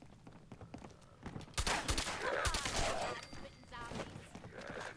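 Suppressed gunshots in Fallout 4, a quick cluster of muffled thudding shots near the middle of the clip among other game noises, with someone talking over it.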